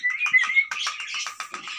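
Green Indian ringneck parrot calling with a run of sharp, high whistles and chirps in quick succession, close and fairly loud with no talk.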